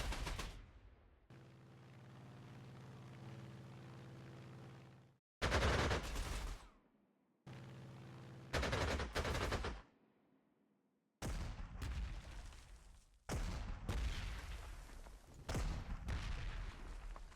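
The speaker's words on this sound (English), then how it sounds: "they got some artillery that's coming out of the woodwork" Artillery fire from the World War II strategy game Panzer Corps 2, Kharkov 1942 counterattack: a series of loud, booming blasts in separate bursts, some followed by rumbling tails, with brief quiet gaps between volleys.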